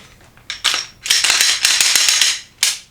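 Glock 17 Gen 5 pistol being checked unloaded, a quick series of sharp metallic clicks and clacks from the slide and action, close and alone.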